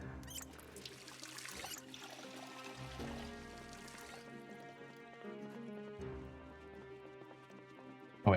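Water poured for a refill in Project Zomboid, a soft, steady trickling pour that runs for several seconds over quiet background music.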